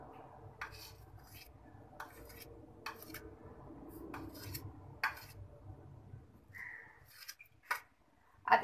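A metal spoon mixing red chilli, salt and turmeric in a bowl, giving a series of sharp clinks and scrapes at irregular intervals over quiet background, close and fairly faint, without talking.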